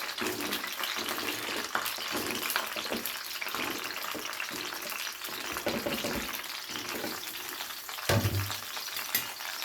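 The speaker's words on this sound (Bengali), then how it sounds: "শুধু নুন দিয়ে ভেজে নিচ্ছি" Pointed gourd (potol) pieces frying in hot oil with a little salt, a steady close sizzle throughout with occasional stirring clatter and a brief sharper burst near the end.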